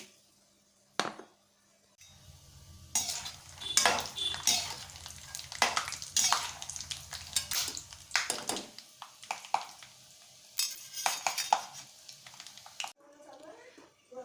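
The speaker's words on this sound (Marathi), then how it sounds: "आता तेलामध्ये मी हे फ्राय करून घेते कुरकुरीत सोनेरी रंग येईपर्यंत शेंगदाणे तळून घ्यायचे" Peanuts frying in oil make a low sizzle under repeated metal scraping and clinks from stirring in the pan. The sounds are close and uneven, with some vocal sound at times, then stop near the end.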